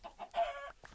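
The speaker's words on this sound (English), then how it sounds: "Okay, we'll kill this chicken and eat that." A Minecraft chicken clucks in a modded game, a quick series of loud, close, nasal clucks with a longer squawk in the middle, heard alone.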